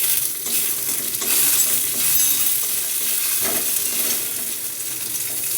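Tempering of dried red chillies, cumin, cashews and bay leaves sizzles in hot oil for sabudana khichdi, a loud, continuous frying hiss with slight swells and crackles throughout and no talking.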